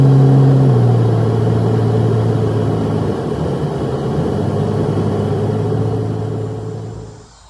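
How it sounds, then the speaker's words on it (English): Steady traffic noise from cars passing on a nearby road, a continuous loud rumble and engine drone with a low hum at the start, fading out near the end. "you can hear the cars passing"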